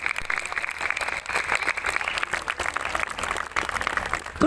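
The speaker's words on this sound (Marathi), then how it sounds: "जोरदार टाळ्यांच्या गजरामध्ये आपण त्याचं स्वागत करूयात" Dense, sustained crowd applause welcoming a performer at an event in Kedgaon, Ahmednagar, steady and loud throughout with a noisy, broadband texture and no clear individual claps.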